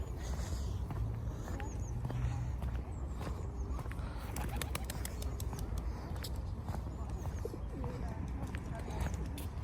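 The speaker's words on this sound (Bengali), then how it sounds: "দেখুন কত সুন্দর কবুতর" Pigeons in a Russian park coo faintly amid soft footsteps and background park ambience, while a person talks over the scene.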